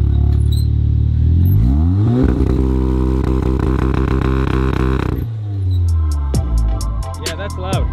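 A stock Audi S4 (B9) and a tuned VW Golf R (Mk 7.5) launch hard together, engines roaring loud and close with rising revs and gear shifts, then easing off to a lower drone with clicking and clatter.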